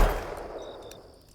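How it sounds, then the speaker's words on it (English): A single gunshot sound effect cracks sharply in an enclosed space, then rings and decays over about a second with a faint metallic tone in the tail. "The gunshot was deafening in the enclosed space."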